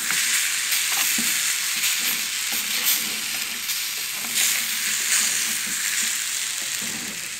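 Homemade banana pastry frying in a little oil in a pot, a loud, continuous close-up sizzle with crackling pops and occasional scraping stirs, no voices.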